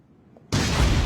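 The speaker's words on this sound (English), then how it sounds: "Where'd that explosion come from?" A sudden, loud explosion in a dubbed anime bursts in after near silence and rumbles on as a sustained roar to the end.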